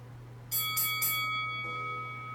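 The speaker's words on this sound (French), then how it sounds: "on vient d'entendre la cloche." A bell is struck three times in quick succession and leaves a clear, ringing tone that slowly fades, over a steady low hum in an exercise class setting.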